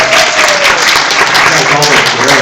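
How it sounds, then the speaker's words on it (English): An audience at a library storytelling event applauds the tellers, loud, dense clapping with voices and cheers mixed through the crowd noise. "can we all give the tellers a big round of applause?"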